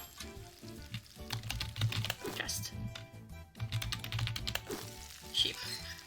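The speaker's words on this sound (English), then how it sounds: "Deal with them diplomatically by typing words above the rat." Fast clattering keyboard typing in a word-typing video game, with rapid key taps running throughout under a short spoken word and busy game sounds.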